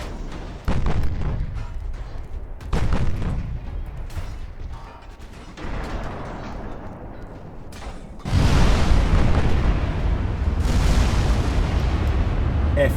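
Battleship main guns firing in the naval strategy game Ultimate Admiral Dreadnoughts: a string of heavy booms and rumbling blasts, then a loud, sustained roaring barrage in the later half, with no talking.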